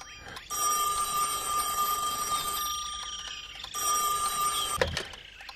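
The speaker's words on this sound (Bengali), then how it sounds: "ঠিক এই সময়ই বাজতে হতো ফোনটাকে" A cartoon telephone rings in bursts, a sustained electronic trill that cuts out and resumes, with a sharp clatter near the end as the receiver is picked up.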